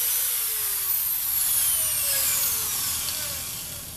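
An electric drill motor whines steadily at high pitch, its tone shifting slightly as it spins down toward the end.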